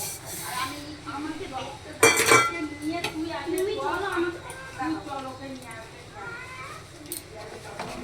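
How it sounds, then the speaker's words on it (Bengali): Sugar is added to milk in a cooking pot and stirred for semai payesh: a spoon clinks and scrapes against the pot with a few sharp knocks, close by, while someone talks throughout. "এবার আমি এর মধ্যে দিয়ে দিলাম চিনিটা।"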